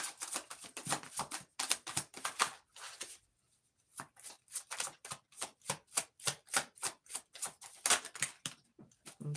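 Tarot cards shuffled by hand in close, crisp bursts of rapid flicking and slapping clicks, with a brief pause partway through before the rhythmic shuffling resumes.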